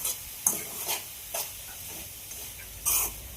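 A spoon stirs chivda mixture seasoned with salt, scraping and rustling strokes in a few irregular bursts over a faint steady background, close and fairly quiet, no talking.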